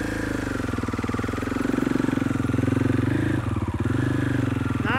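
A dirt bike engine is held under steady throttle during enduro clutch control practice, chugging close and loud with a pulsing rhythm and a brief dip in revs before it picks back up.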